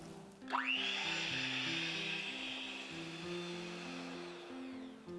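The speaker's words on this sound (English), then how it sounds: "I would recommend blending it until it has this kind of crumbly texture" A blender whirs steadily through thick cookie dough with white chocolate, cherries and macadamia nuts, a sustained close motor drone that starts abruptly and runs throughout over faint background music.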